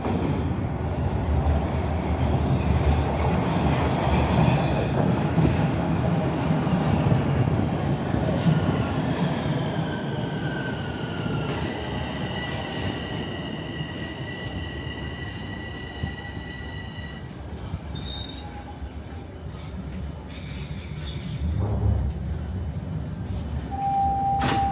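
A Toronto Line 1 subway train rumbles in and slows, its wheels squealing and whining in high pitched tones as it comes to a stop nearby.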